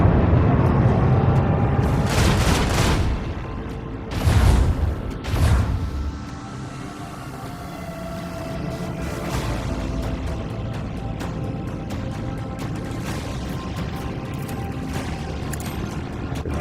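A starship weapon blast in Warhammer 40,000: Rogue Trader: several heavy booming impacts land in the first six seconds, then fade into a quieter rumbling ambience.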